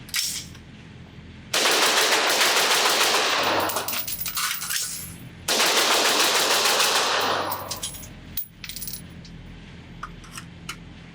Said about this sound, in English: Let's see how fast I can shoot this in a small burst